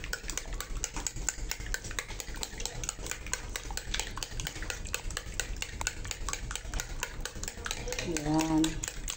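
Pancake batter is stirred in a bowl with a utensil, giving a steady run of close, rapid scraping clicks against the bowl, with a voice briefly speaking near the end.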